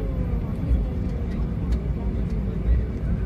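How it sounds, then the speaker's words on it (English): An aircraft departs Kolkata airport on a rainy day, heard as a steady, low, distant engine rumble with faint murmuring voices in the background. "you can see an aircraft departing and taking off"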